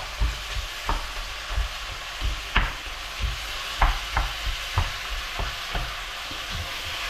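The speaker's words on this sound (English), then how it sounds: "all I'm going to do with this is to just roughly break up the mince." Beef mince fries in a pan for bolognaise while a utensil breaks it up, giving a steady low sizzle punctuated by regular knocking, scraping strokes about every half second, close and without talk.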